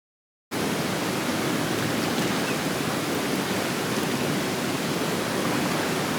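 A flowing river rushes steadily as a broad, constant wash of water, close and loud from start to finish with no voices.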